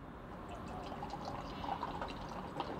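Liquid pours steadily close by in a quiet room, a soft continuous splashing trickle with faint drips and no talk.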